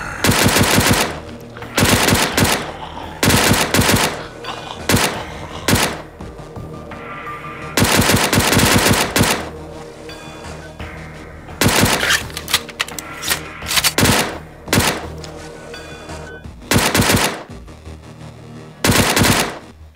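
Automatic gunfire in the shooter game Border of Insanity rattles out in repeated loud, rapid bursts with short gaps between them, and a voice briefly talks faintly underneath.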